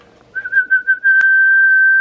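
A person whistles into a Fidelity CB 2000 FM radio's new old stock noise cancelling microphone, a few short warbling notes followed by one long, loud, steady pitched tone with a click partway through.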